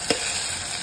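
Ingredients fry in hot oil with salt for a Marathi ridge gourd and toor dal amti, giving a steady close sizzle with one brief stir-like burst near the start.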